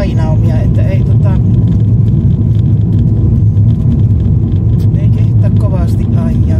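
Car driving over a potholed, frost-heaved road, a loud steady rumble of engine and tyres with uneven thumps, someone talking over it throughout.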